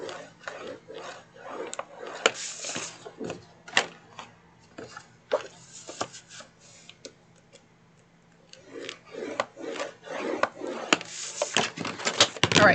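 A scoring tool presses and scrapes along paper composition book inserts, a series of close, sharp ticks and short scratchy strokes in irregular bursts, with a brief quieter pause in the middle.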